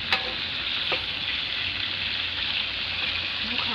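Isan sausage from Khon Kaen fries in hot oil, a loud, dense, continuous crackling sizzle with a couple of brief clinks near the start, no one speaking.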